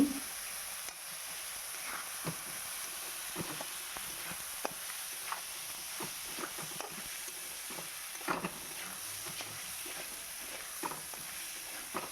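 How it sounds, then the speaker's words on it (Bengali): Gobindobhog rice fries in a pan at home, a soft continuous sizzle with scattered light scrapes and taps from stirring, fairly quiet and steady throughout. "চালটা একটু ভালো করে ভেজে নিব আমি।"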